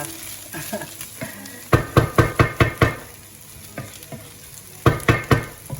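Rice being stirred with kohlrabi in a pan: scraping strokes, with a quick run of five sharp knocks of the spoon against the pan midway and three more near the end.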